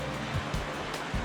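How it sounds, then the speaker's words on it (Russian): River water runs through a pipe feeding a village supply near a tiger reserve in India, making a steady rushing wash with periodic louder surges. "идет по трубе вода"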